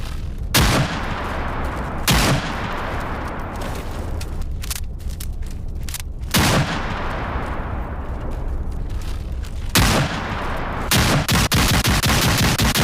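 Shotgun fire in the VR game Into the Radius 2, with sharp blasts recurring every few seconds and a quick cluster near the end over constant loud background noise.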